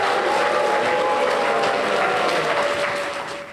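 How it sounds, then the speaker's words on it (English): A banquet audience applauds the chancellor at a donors appreciation event, a broad, continuous wash of many hands clapping at moderate distance, fading slightly toward the end. "please give a round of applause and a Golden Lion roar for our chancellor"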